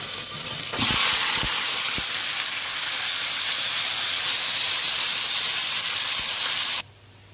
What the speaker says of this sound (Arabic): هنا بقى الطاسه سخنت قوي، لازم الطاسه تبقى سخنه جدا جدا جدا. وانزل ايه بالشاورما.